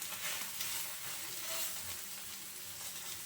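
Steady sizzle of an egg and paratha flatbread frying together in a pan, a continuous bright crackle at moderate level with no talking.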